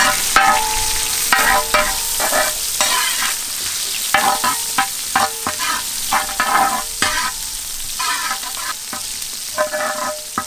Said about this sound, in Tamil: அழகாக நறுக்குன்னு வெங்காயத்தை போட்டு வேண்டியா.